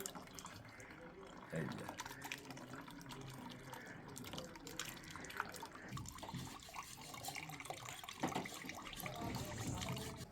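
Water from split milk curd (chhena) for rasgulla drains and drips through a strainer, a steady trickle with splashes running under close talking throughout.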